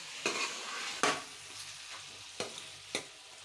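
Chicken biryani masala with curry leaves is stirred in a pan over a faint steady sizzle, with four sharp scraping strokes of the spoon spaced about a second apart.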